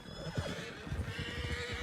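Horses in the Red Dead Online video game whinny while hooves clip-clop in uneven, overlapping beats, fairly close and steady across the short stretch.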